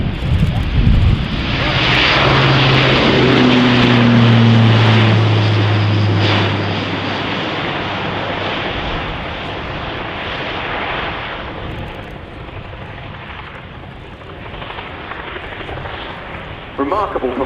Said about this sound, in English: Airbus Defence and Space 4-turboprop for Europrop International TP400D6 powered airlifter.